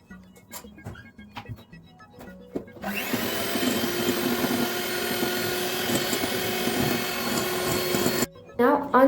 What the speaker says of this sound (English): I'm just going to use a mixer to whisk it on high speed for about 10 to 12 minutes